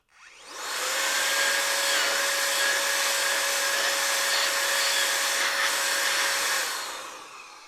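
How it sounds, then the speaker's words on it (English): A cheap Kuni rechargeable air blower runs on its highest setting, spinning up quickly into a loud, steady high-pitched whirring hiss with a constant motor whine, then winding down at the end. "now let's see how the cheap Amazon blower I got does"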